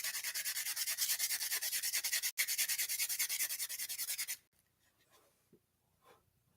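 A briar tobacco pipe is sanded by hand in quick, even back-and-forth strokes, close and continuous for about four seconds, then it stops and only faint small knocks remain.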